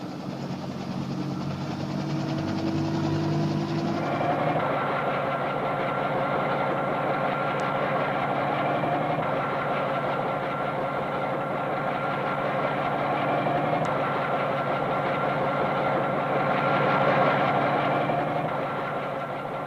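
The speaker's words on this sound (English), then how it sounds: "The first stage of the journey is aboard President Kennedy's helicopter to the airport" Steady loud engine drone with a broad rushing roar, continuous throughout, from a helicopter running up close, in the 1960s.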